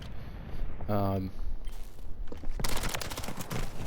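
Shotgun and gunfire blasts from a Call of Duty match come in short bursts, with some quieter moments between them, and a few quick game sounds are mixed in.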